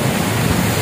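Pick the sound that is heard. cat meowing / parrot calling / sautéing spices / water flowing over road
water flowing over road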